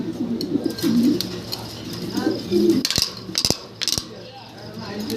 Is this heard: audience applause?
no